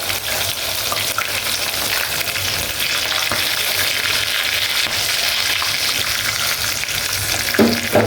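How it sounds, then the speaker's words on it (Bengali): Pieces of Dhaka-style chicken chaap fry in hot oil with a loud, dense, continuous sizzle and crackle, close up and steady throughout, with a few stirring clinks near the end and no talking. "আমি এখন এটা উঠে ফেলবো আমি আর দুটো ভাজবো"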